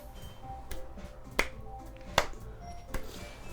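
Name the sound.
applause by finger snapping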